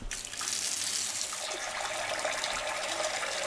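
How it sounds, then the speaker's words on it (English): Boiling water pours steadily into a kitchen sink, a continuous splashing rush that begins abruptly and keeps running at moderate, close loudness. "I'm going to put boiling water into the sink"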